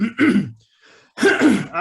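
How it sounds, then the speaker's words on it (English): Two harsh, throaty coughing bursts close to the listener, separated by a short quiet pause. "really apologize about my cough here."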